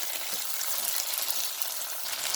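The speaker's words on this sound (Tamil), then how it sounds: "தக்காளி பழம் நல்லா வதங்கி கரைஞ்சி வர மட்டும் வதக்கி விடுவோம்" Tomatoes sautéing in a pan for a fish curry make a dense, even hiss of sizzling that holds steady throughout, moderately loud, with no speech.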